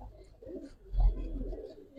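Giribaz pigeons in a loft give soft, low coos in a short close burst, with no talking.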